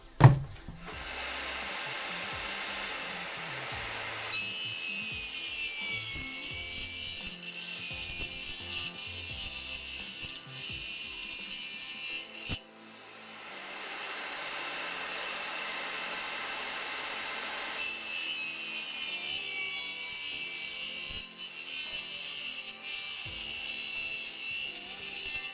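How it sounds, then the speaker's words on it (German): A hand saw rasps steadily back and forth through wood in long, even strokes, close and fairly quiet, with a brief pause midway. "Und jetzt säge ich einfach einmal rüber."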